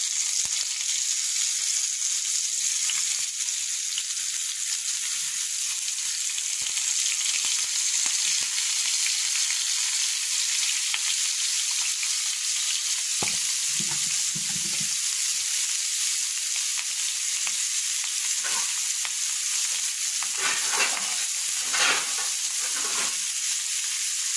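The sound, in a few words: frying fish in oil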